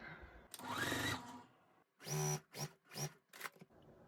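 A sewing machine runs a quilt seam for a Pieceful Baskets quilt in short, quiet whirring bursts: one longer run, then a pause, then several quick spurts of stitching separated by brief gaps.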